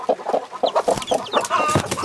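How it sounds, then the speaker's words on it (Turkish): Newly hatched chicks and hens at a backyard coop, with repeated soft clucks and high chick peeps close by in a steady busy stream, no talking. "4 tane civcivimiz çıktı."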